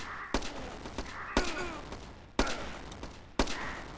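Four sharp gunshots from the Battle Islands: Commanders video game, spaced roughly a second apart, each with a fading reverberant tail and faint background noise between them.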